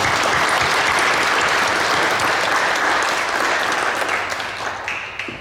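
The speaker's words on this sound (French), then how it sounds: "je crois qu'on peut les applaudir" A room full of people applauds newly installed municipal council members at a council installation ceremony, a dense, steady wash of clapping that holds strong and then gradually thins out toward the end.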